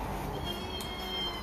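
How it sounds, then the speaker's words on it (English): A young kitten named Cuddles, just awake from a nap, gives a short, plaintive meow up close, a single brief call with no talking. "we have a kitten named Cuddles, and she just woke up from a nap and she wants attention"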